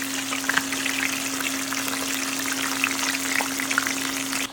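Cooking oil trickles and pours into a bowl while escovitch fish is being prepared, making a steady close splashing patter with no voices.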